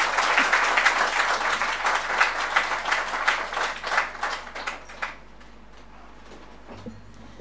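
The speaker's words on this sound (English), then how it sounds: "Thank you, you can applaud now." A conference audience honouring an archaeologist breaks into loud, full applause that gradually thins into scattered claps and stops after about five seconds, followed by near silence.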